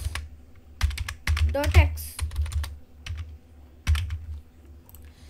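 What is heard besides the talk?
typing code on a computer keyboard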